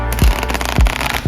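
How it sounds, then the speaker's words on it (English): Playing cards being riffle shuffled nearby, a loud dense fluttering rattle broken by three heavy low thumps as the halves are pushed together, with no speech. "You'd riffle through the cards, and that's why it's called the riffle shuffle."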